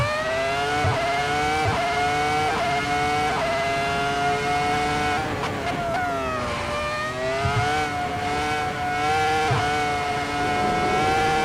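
High-revving racing engine screaming above 10,000 RPM, a loud continuous whine that holds steady, dips briefly as it shifts, then climbs again, close and dominant with no talk.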